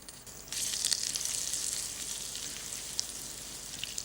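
Butter and cooking oil with the white part of green onions cooking in a pan over low heat, a steady close sizzle that starts thin and swells into a fuller continuous frying hiss.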